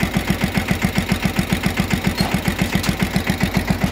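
Small tractor hitched to a cart idling on a sugar mill weighbridge, its engine thumping in a fast, steady, evenly spaced rhythm, close and loud throughout with no talk.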